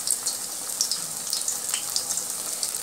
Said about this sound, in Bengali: চারটে দিয়ে গ্যাসের জোরটা মিডিয়াম করে আস্তে আস্তে এটাকে ছেঁকে নেব।